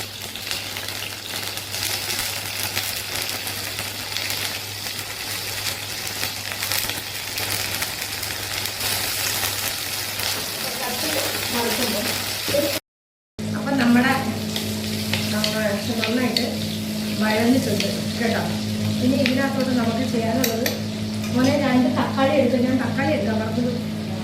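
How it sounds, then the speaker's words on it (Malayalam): Sliced eggplant fries in hot oil for a dried fish curry, a continuous close sizzle with stirring scrapes; after a short gap midway, a person talks over the frying for the rest. "കത്രിക്കയാണ് നമ്മൾ വറുത്തെടുക്കുന്നത്"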